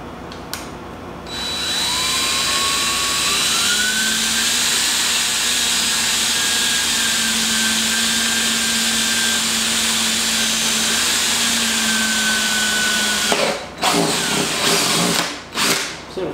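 A power drill whirs steadily for about ten seconds boring dowel holes, its pitch rising slightly as it bores, then stops and is followed by a few clunks.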